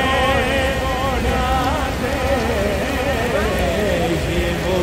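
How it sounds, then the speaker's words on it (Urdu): Heavy rain pours steadily in Madinah, a dense continuous hiss close to the microphone, with a voice chanting or talking throughout over the downpour. "تیز ابھی بارش ہے"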